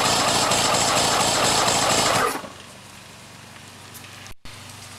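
A 2005 Mercury 200 XL carbureted outboard engine cranks for a compression test, a loud, rapid rhythmic churning that stops abruptly after about two seconds, leaving a quiet background with a brief click.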